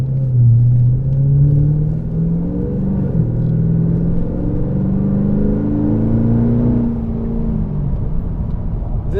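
A Pontiac G8 GXP V8 sedan pulls hard with a steady, loud, deep engine rumble and rising, shifting drone, heard from inside or near the car for several seconds with no talking.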